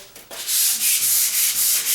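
A door is hand-sanded with 150 grit sandpaper in rapid back-and-forth strokes, a loud, close, rhythmic scratchy rasp pulsing about twice per second, with no talking.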